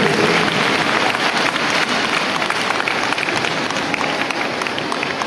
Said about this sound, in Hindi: जोरदार तालियां सभी बहनों को।